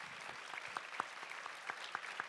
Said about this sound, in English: Let's give a great round of applause for our speakers today.